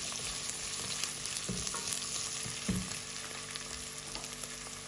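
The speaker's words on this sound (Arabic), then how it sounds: "بقليهم شوي." Onion, small potato and carrot fry in a pot as the base for lentil soup, giving a continuous close sizzle with small crackles and occasional stirring scrapes.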